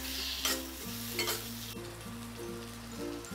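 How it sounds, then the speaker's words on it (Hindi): Boiled raw banana pieces fry and get stirred in a pan for a Navratri fasting sabzi: a steady sizzle with a few scraping stirs, continuous over a faint tonal background, with no talk. "उसे डाल देते हैं और इसे अच्छी तरह से मिक्स कर लेते हैं"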